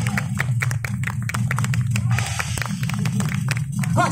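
An audience claps at a live Taiwanese opera stage performance of a martial piece, with dense, continuous applause and a low murmur of the crowd or stage sound beneath it.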